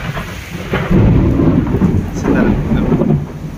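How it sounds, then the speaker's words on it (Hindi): Loud thunder rolls and rumbles from a lightning strike during a rainstorm at the Jagannath temple, with steady heavy rain hissing underneath and a deep, sustained boom swelling close by. "भाई देखिए के बिजुली मारला"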